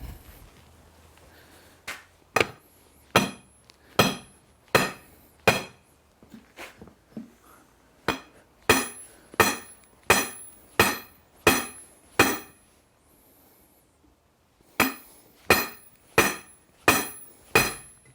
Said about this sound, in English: Now I have a piece of pipe and a heavy hammer.